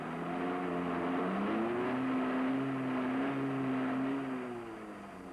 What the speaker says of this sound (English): Sudden bursts of power cause the wheels to spin, and the vehicle digs deeper into trouble.